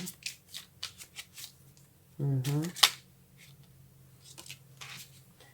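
Tarot cards shuffled at a reading: a short burst of riffling and slapping cards, close and clear, between stretches of a person talking.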